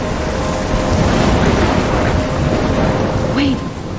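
Heavy thunderstorm with steady rain in the video game Life Is Strange: loud continuous downpour with deep rolling thunder rumbling throughout, close and enveloping.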